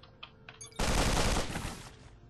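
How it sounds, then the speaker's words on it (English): A video game shotgun fires at a cluster of targets with a sudden loud, broad blast that sustains briefly as a roaring burst and then trails off, preceded by a few faint game interface blips. "switch to the shotgun and take a shot at that cluster of targets"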